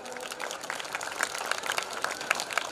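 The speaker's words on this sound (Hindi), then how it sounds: "जोरदार करताली हेबो" Applause breaks out at a school ceremony honouring high-scoring students at a silver jubilee event in Padmapur, with steady scattered clapping from a crowd over about three seconds.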